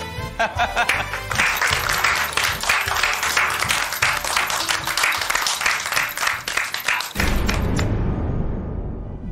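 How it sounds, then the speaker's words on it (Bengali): A studio audience on a Zee Bangla television show gives sustained, dense applause that cuts off abruptly near the end, leaving a low hum. "এটার জন্য অভিনন্দন জানিয়ে একটা তো হাততালি দেওয়াই যায় নাকি?"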